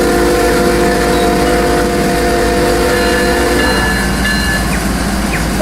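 A CSX train in Rolling Line rumbling steadily and loudly, a continuous rolling drone with faint clicking over nearly six seconds.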